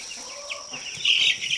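Chickens in a barn cluck and squawk up close, with one louder, higher call near the end, and no voices.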